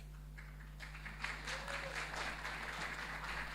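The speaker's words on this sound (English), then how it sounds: "I take the applause" An audience at a talk on banking and culture breaks into applause, a soft, distant wash of clapping that swells after a second and holds steady over a low electrical hum.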